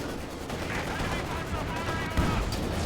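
Machine gun fire from Maxim MGs in a Company of Heroes 2 tournament match, dense rattling bursts and distant explosions running continuously under excited commentary.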